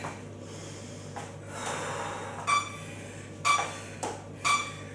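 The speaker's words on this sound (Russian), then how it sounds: "Вдох носом." Sharp nasal inhalations during a fat-burning running workout, four quick sniffs in the second half over a steady background hum, fairly close.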